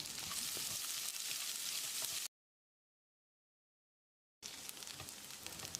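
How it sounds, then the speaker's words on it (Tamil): Finely chopped onion sizzles and fries in a hot pan for a South Indian drumstick curry, a steady crackling hiss that cuts out to silence for a couple of seconds before resuming. "ஒரு பெரிய வெங்காயத்தை பொடியாக நறுக்கி வச்சுருக்கேன். இதையும் போட்டு வதக்கிடலாம்."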